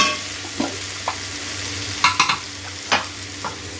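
Mutton and tomato sizzle and fry in a pan, with several sharp stirring scrapes and clinks breaking through a steady hiss. No one speaks.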